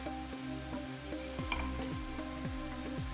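Salmon pieces simmer in a pan of thickened teriyaki sauce made with sugar, giving a steady close bubbling sizzle with faint scraping stirs and no talk.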